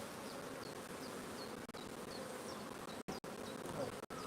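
A dense, continuous buzz of many honey bees at an open apiary hive, packed with frames. The buzzing is close and steady with brief dropouts and occasional handling sounds.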